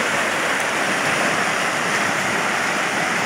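A river flows in a steady, dense broadband rush of water, loud and continuous with no breaks.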